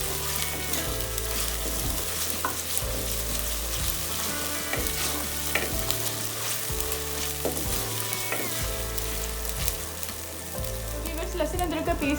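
Garlic ginger paste frying with onions in a pan for beef karahi, a steady loud sizzle broken by repeated rhythmic stirring scrapes, with no voices.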